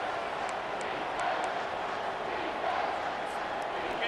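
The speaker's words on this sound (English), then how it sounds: "The crowd elevating its energy, willing this defense to get a stop on this big third down." Stadium crowd in EA Sports College Football 25 roars steadily through a big third-down defensive play, a dense, sustained wash of cheering that holds at a constant level from start to finish.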